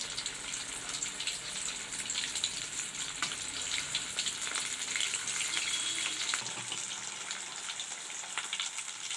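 Sabudana vada frying in hot oil just after being turned over, a soft, even bubbling sizzle that continues steadily throughout with faint crackles and no talking.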